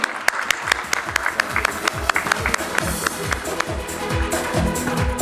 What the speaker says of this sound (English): Can we have a huge round of applause for Rajeshwari and team?